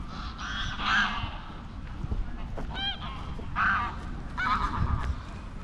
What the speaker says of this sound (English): I don't know what happened to the geese.